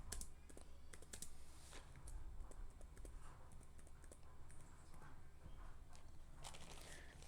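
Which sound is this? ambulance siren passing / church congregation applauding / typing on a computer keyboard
typing on a computer keyboard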